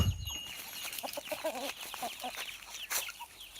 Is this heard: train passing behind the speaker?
no